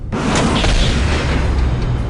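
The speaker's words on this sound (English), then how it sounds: "On my command, fire the Titan cannon." Titan cannon firing in the video game Dawn of War Dark Crusade: a loud, sudden blast that opens with a sharp attack and then stays as a deep, sustained roar across the whole stretch.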